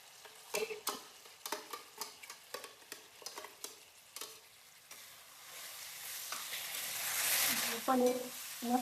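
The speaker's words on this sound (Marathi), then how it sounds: "पनीर मसाल्यामध्ये छान परतायचं." Masala-coated paneer sautéing in a pan for pulao, a run of sharp spoon taps and scrapes giving way to a rising sizzle, close and moderately loud.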